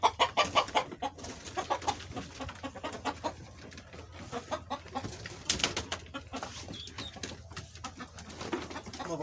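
Backyard hens cluck and coo in a steady series of short calls, fairly close, with scattered scratching and rustling sounds between them and no voices.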